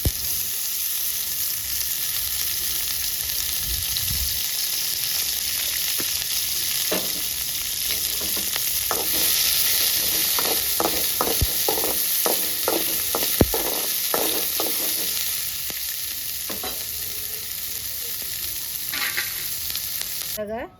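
Sesame seeds frying in oil make a constant soft sizzle, with a run of quick popping crackles and light stirring clicks through the middle before it settles back to a steady hiss, and no talking.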